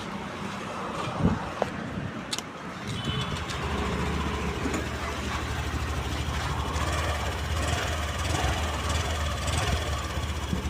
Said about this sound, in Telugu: ఒకసారి మనం బైక్ అయితే స్టార్ట్ అయితే చేసి చూసుకుందాం.